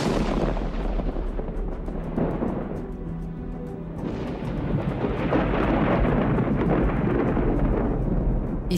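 Heavy rain pours steadily in a tropical forest, with deep rumbling thunder rolling beneath it, loud and continuous.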